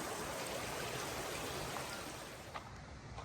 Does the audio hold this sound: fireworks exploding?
no